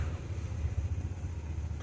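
A river launch motors through the Sundarbans, its engine giving a steady low rumble with a slight wavering pulse throughout a brief stretch, no voices over it.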